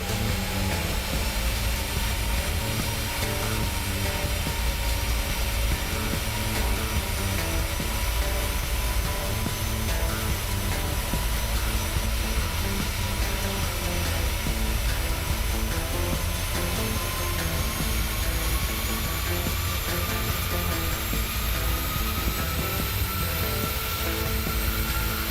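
PMDG 737 jet landing in Microsoft Flight Simulator, a continuous loud engine roar with a steady whine that slowly rises in pitch toward the end, no voices over it.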